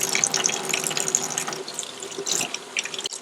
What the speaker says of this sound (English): I'm just gonna hold it in the water like this instead of dunking it.